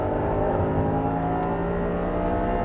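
An Audi R8 V10 at full throttle on a racetrack gives a loud, sustained engine roar with a steady tonal whine, heard close from inside the car.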